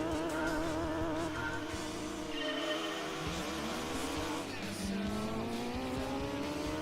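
In Gran Turismo 2, a race car spins out with rising and falling tire squeals over the engine note, loud and continuous for several seconds.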